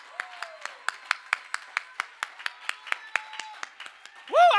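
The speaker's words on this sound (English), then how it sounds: "put your hands together and clap in this" A church congregation claps in a steady, even rhythm, about eighteen sharp claps, while a preacher's voice speaks and sings over them, ending with a rising vocal cry.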